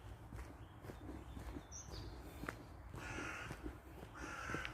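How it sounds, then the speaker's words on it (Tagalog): A crow caws a few times at a distance over outdoor mountain ambience, with faint footsteps and rustling nearby. "May uwak pa."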